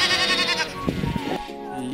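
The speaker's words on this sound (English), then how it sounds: "White sheep." White sheep bleating in a single wavering, nasal call lasting about two seconds, close and fairly loud with no other sounds around it.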